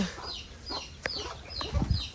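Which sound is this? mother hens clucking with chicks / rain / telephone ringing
mother hens clucking with chicks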